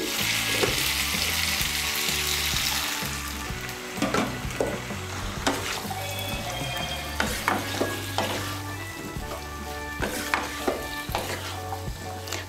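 Pumpkin, potatoes and pointed gourd frying with hot water added, a loud sizzling burst that settles as a spatula stirs, clacking against the pan in repeated scrapes.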